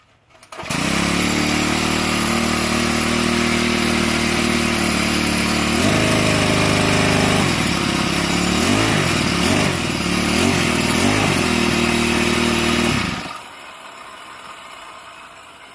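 A Troybilt weed eater with a newly replaced carburetor fires up close by and runs loud and steady. The engine revs up and down several times, then cuts back to a quieter idle at the end.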